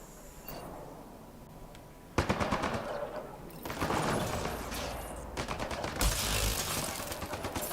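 Hacked automated turrets in Mass Effect Andromeda rattle off rapid machine-gun bursts, loud and close, starting abruptly after a quiet stretch of ambience and continuing in overlapping volleys with sharp impacts.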